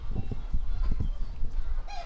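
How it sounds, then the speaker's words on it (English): A Polish chicken clucks and honks up close in a rapid, uneven series of short calls on a farm, with a faint higher call near the end. "So, this is a Polish chicken."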